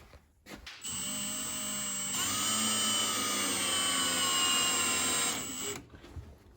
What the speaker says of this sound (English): we're going to then screw the screw and the bracket onto the door